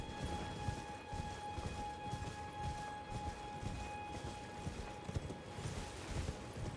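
A horse gallops through the Elden Ring game world, its hooves clopping in a steady, repeated rhythm over a dense background of game noise, with no talk.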